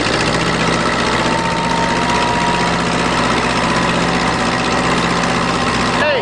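A farm tractor at about 40 km/h on the road gives a loud, steady, droning engine note with a constant low rumble for the whole stretch, ending abruptly.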